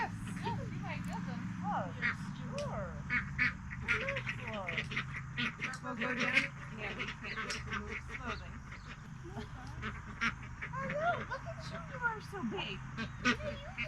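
Ducks quack in repeated short bursts throughout, close and fairly loud, with a low rumbling background and people talking at times during a visit to a backyard duck house.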